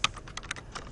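Search terms are typed on a computer keyboard in a rapid, close patter of key clicks lasting about a second.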